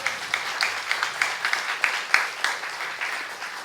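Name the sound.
congregation applause in church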